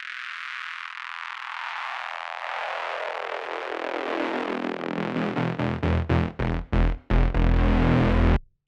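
Bass house breakdown bass with an arpeggio that slows down, a dense distorted synth tone sweeping downward while its chopped pulses grow slower and farther apart before stopping abruptly. Loud and alone.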